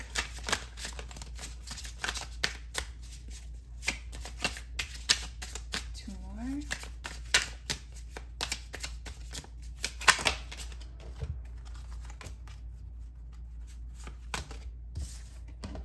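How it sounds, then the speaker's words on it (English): A deck of tarot cards shuffled close by, with quick papery riffles and taps repeating irregularly throughout, fairly faint over a steady low hum. "I'm gonna pull out 3 more cards from this deck."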